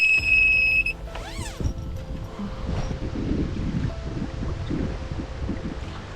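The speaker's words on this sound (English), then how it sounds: "It's super windy and the wind's blowing in my face" Strong wind gusting across the open bank of a large public reservoir, a steady loud rumble buffeting the microphone, with a brief tonal whine near the start and no talking.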